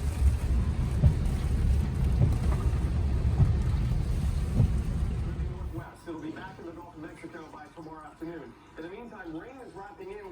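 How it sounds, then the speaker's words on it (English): Heavy rain and low rumbling from Tropical Storm Eta in Broward County, Florida, fill the first half as a dense, loud wash, then fade back as a person starts talking. "Rain is wrapping in."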